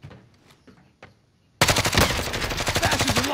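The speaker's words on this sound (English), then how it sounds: "That bitch just shot me through the fucking wall" Video game gunfire in Call of Duty Warzone: after a quiet start with faint taps, a loud rapid automatic burst cuts in and rattles on steadily to the end.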